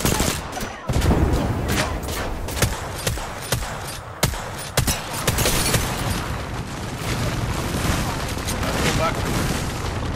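Rapid gunfire from Apex Legends gameplay: loud, sharp shots and bursts crack repeatedly, some spaced and some in quick fusillades, over a dense background of in-game noise and speaking voices.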